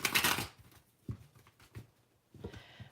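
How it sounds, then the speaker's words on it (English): Tarot cards are riffled and shuffled, a short burst of crisp flapping at the start followed by a few soft taps and a second brief shuffle, fairly quiet and without speech. "Oh, cards don't want to shuffle,"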